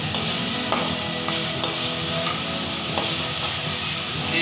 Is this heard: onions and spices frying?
yes